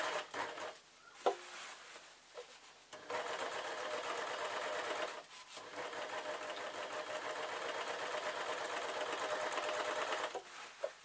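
A sewing machine stitches the bodice of an off-shoulder dress in long steady runs of rapid needle chatter, pausing briefly twice, close and fairly loud with no talk.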